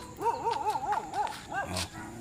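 Dogs whine and yip in wavering, sing-song cries, followed by a short bark, fairly close, against a noisy background.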